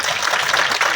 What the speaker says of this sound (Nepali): जोडदार ताली